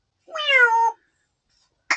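A parrot mimics a domestic cat's meow: one drawn-out, wavering meow lasting most of a second, clear and close, then a brief sharp squawk-like burst after a pause.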